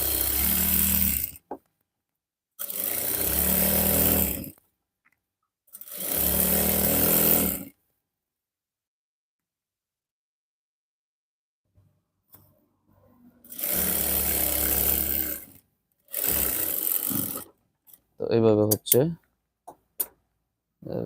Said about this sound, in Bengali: চাপ সেলাই দিয়ে নিচ্ছি